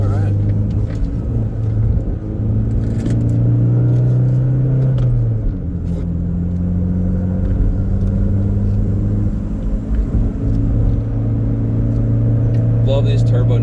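A Toyota MR2 turbo drives the Tail of the Dragon mountain road, its engine droning steadily in a loud cabin rumble with a rising and falling engine tone as it pulls through curves, and someone talking over it.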